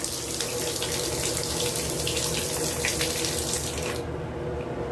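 Water runs steadily from a tap after a hot water valve repair, a loud continuous rushing splash near at hand that cuts off abruptly as the tap is turned off near the end.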